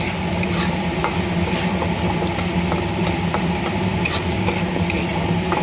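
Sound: lentils being fried and stirred in a pan for khichuri

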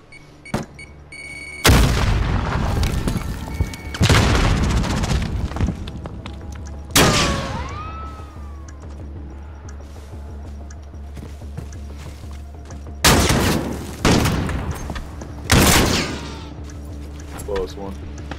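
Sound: shotgun gunfire in video game Call of Duty Modern Warfare

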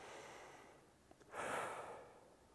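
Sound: deep breath

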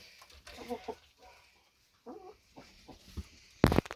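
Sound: rooster

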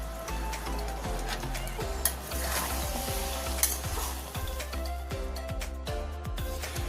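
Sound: stir-frying taro stolons and prawns with mustard oil

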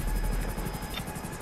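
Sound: helicopter in video game GTA 5 Online

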